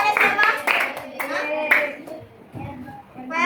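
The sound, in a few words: class clapping hands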